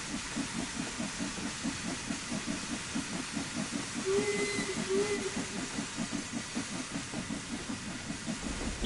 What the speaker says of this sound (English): So we can close the cylinder cocks now.